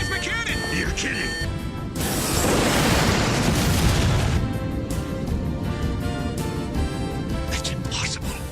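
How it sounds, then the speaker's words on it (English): Plasma cannon blast fired from an enemy ship in an anime space battle: a loud, broad roaring boom swells in and rumbles for a couple of seconds before fading into a lingering sci-fi hum, with voices around it. "A flash from the enemy ship! It's their plasma cannon!"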